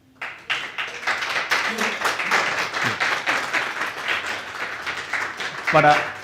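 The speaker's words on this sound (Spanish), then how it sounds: "quiero que le brinden un aplauso" An audience gives a steady round of applause at a podcast event, dense and continuous for several seconds before tapering off.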